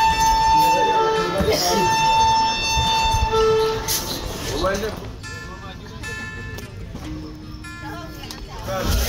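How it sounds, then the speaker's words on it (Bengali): A passenger train pulling out and running, with a rumbling rolling drone and sustained tonal horn or whistle tones early on, then lighter clattering wheel noise as a voice talks over it. "ট্রেন ছেড়ে দিয়েছে"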